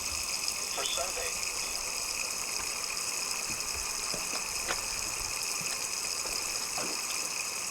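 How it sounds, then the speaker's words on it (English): Water pours steadily into a sailboat's freshwater tank, a continuous hissing gush with a tonal whine running beneath it. A voice talks faintly over the flow for most of the clip. "now we have the water flowing into the tank"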